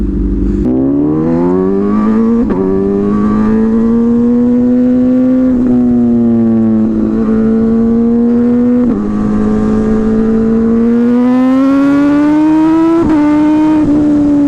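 A hyper naked motorcycle with an MR12 is ridden hard, its engine revving loud and close, with rising and falling pitch through repeated gear shifts and sustained acceleration and no talk.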